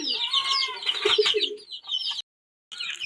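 A hen that has recently hatched chicks clucks in a run of short, fairly close calls, followed by a brief silence and then another burst of clucking.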